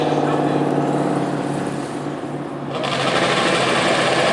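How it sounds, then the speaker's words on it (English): Two Kawasaki ZX14 motorcycles at a drag race in the 890 class, engines buzzing high and steady up close, then a sharper surge near the end. Faint talk sits under the noise. "We got two Kawasaki ZX14 for the battle it out in the 890 class."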